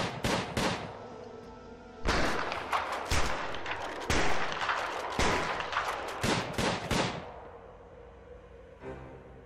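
Guards fire guns in the Prison Architect video game, a dense barrage of sharp, loud shots and rapid bursts that runs for several seconds, then thins out to scattered cracks before stopping.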